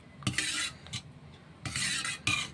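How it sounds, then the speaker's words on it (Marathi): Dal being stirred with a spoon right after a red-chilli tempering is poured in, giving a few short bursts of scraping and clinking against the pot separated by quieter gaps, with no talking. "बघा त्याला मिक्स करून घेते मी चांगलं"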